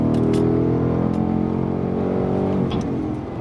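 A Ford Mustang Bullitt accelerates on a track at Le Mans, its engine a loud, steady drone that swells and then tapers off as it draws away, with no talking.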